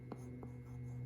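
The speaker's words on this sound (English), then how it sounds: "And of course, we must write our name." Pencil or marker writing a name by hand on paper, two faint short strokes over a steady low background hum.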